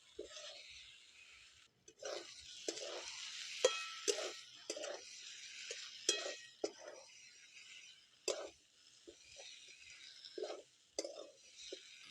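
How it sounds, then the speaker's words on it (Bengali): Prawns and green jackfruit being sautéed and stirred in a pan, soft sizzling with repeated scraping and clinking strokes of a utensil, fairly quiet and close. "চিংড়ি মাছটা দিয়ে একসঙ্গে ভালোভাবে কষবো"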